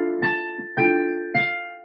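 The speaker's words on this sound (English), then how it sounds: "something fun with this piece that we just learned is to push your pedal down while you play it" A piano is played with the sustain pedal held down, three struck chords or notes ringing on and overlapping into one another, quiet and close, with no talking.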